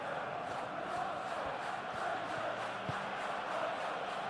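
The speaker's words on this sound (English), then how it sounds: "The crowd are calling for this to be put to bed." A PES 21 football stadium crowd roars in a steady, moderately faint wash of massed voices and chanting, with no distinct peaks.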